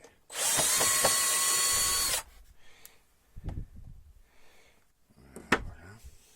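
Power screwdriver unscrewing ventilation pipes on a camper van, one loud whirring burst of about two seconds up close, followed by quieter clanks and handling knocks.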